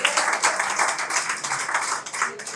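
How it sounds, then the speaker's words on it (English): Audience clapping for a man at a women's collective launch event, a dense, continuous patter of many hands at moderate volume, steady throughout with no pauses. "Can we all clap for him, please?"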